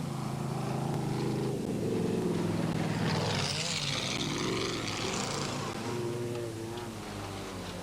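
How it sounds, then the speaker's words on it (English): Off-road race cars in the 1995 Draper Off Road Challenge roar past, engines droning and rising in pitch as they close in, with a commentator talking over the racing noise. "here we can see the faster cars closing up on the slower ones and chasing the leader, Craig Draper"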